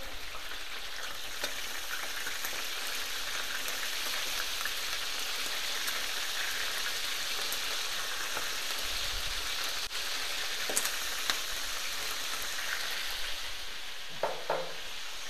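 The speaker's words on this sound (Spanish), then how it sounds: "ya es cuestión de ir friendo poco a poco, controlando el fuego" Salted free-range chicken sizzles and crackles steadily in a hot pan, a dense continuous hiss with occasional pops and a brief clatter near the end.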